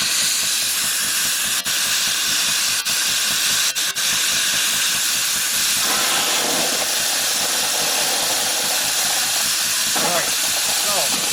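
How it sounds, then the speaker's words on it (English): A steam engine's injector hisses loudly and steadily through the whole stretch, with a few sharp clicks early on and voices speaking over the hiss near the end. "So now the next thing to do is test the injectors."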